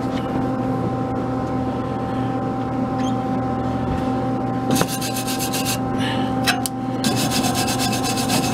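Wire brush scrubbing a fresh weld on front bumper mounts: a dry, rasping rub that turns into loud, rapid back-and-forth strokes in the second half, close up with no talking.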